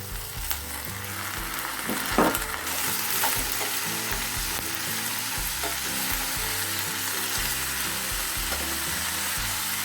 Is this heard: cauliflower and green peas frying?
yes